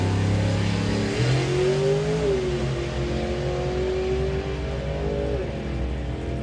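A nostalgia drag racing car at Santa Pod Raceway revs hard and climbs in pitch as it accelerates down the strip, a loud continuous roar with a gear shift midway.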